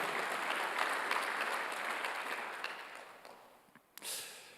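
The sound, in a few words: church congregation applause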